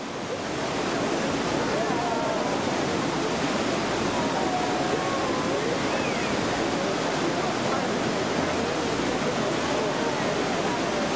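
The Grizzly Peak Waterfall at Disneyland roars as a loud, constant wash of falling water, with faint crowd voices blended into the steady rush.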